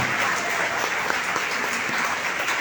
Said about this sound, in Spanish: Glorifiquémoslo con nuestras palmas al Señor de señores y al Rey de Reyes